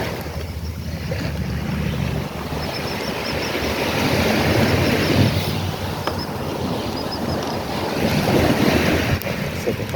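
Ocean surf rolls and washes continuously along a Fort Myers Beach shoreline in Florida, loud and near, mixed with heavy wind buffeting the microphone and swelling in waves over the span.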